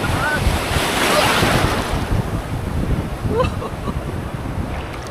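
Steady surf rolls and crashes on the beach at San Juan, Batangas, a continuous loud wash of sea waves mixed with wind buffeting the microphone.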